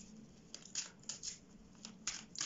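Lenormand fortune-telling cards drawn from the deck, with soft papery slides and crisp flicks at irregular intervals, close and quiet.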